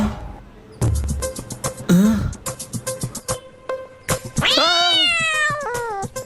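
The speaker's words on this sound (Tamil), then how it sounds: "பூனை குறுக்கால போகுது," A close, loud cat meows in a long, drawn-out wail toward the end, after a shorter cry earlier. Rhythmic tapping and clicking sounds run throughout.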